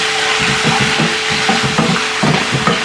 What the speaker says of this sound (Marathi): आता या स्टेजवर ही जी पेस्ट आहे ना ही घालूया आणि हिला सुद्धा 1-2 मिनिटं ना व्यवस्थित अशी फ्राय करून घेऊया